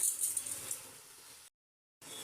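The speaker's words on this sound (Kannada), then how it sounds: "ನೋಡಿ ಇವಾಗ ಅಕ್ಕಿ ಹಾಕ್ಕೊಳ್ತಾ ಇದ್ದೀನಿ" Dry rice grains rattle and hiss as they pour into a pot for about a second and a half, stop, then a soft rustle resumes.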